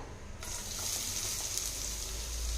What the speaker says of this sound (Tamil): சோம்பு வந்து பொறிஞ்சிட்டு இருக்குதுங்க